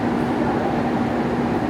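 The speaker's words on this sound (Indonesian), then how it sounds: "Sesaat lagi kereta api Progo akan tiba di stasiun Purwokerto." The Progo passenger train arrives at Purwokerto station with a continuous low rumble and rolling rail noise, steady and fairly close, without talk.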